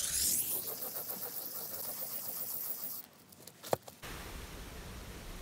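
A Dremel rotary tool spins a sanding wheel against a grinding stone, giving a steady high whir for about three seconds before it cuts out, followed by a sharp click and a quieter hum.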